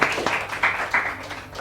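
Brief scattered applause from the audience at a school quiz show, a few bursts of clapping over roughly a second and a half, fairly faint and set against room noise.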